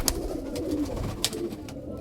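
Female pigeons just let into a breeding loft fill the space with a steady, low cooing murmur, with a couple of sharp clicks or taps standing out.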